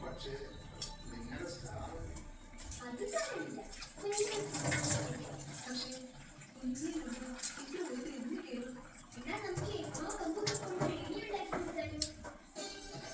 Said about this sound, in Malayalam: കുറച്ച് വെള്ളം ആഡ് ചെയ്യണം